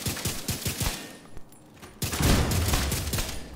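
Rapid gunfire from a gun in The Division 2: a fast run of sharp, evenly spaced shots, a brief pause, then a denser, louder burst of continuous fire.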